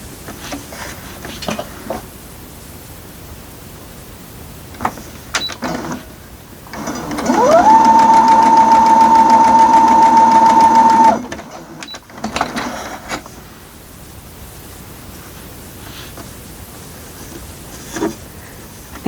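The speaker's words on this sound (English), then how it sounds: "I'm just going to fold over, and we are going to get this arm sewed" A sewing machine stitches a folded quilt arm piece in one steady run of about three and a half seconds, loud and close, with a faint whine under the motor. Quieter handling noise comes before and after.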